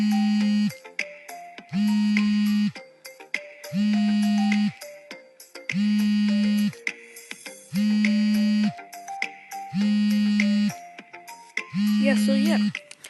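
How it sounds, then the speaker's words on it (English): A custom phone ringtone plays a short melodic phrase that repeats about seven times at an even pace, with brief gaps between the phrases, and no other sound competes with it. "Yeah, that's the ringtone there"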